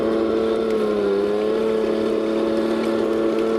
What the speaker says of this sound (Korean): 자체 스피커에서는 탱크 사운드 효과가 나옵니다.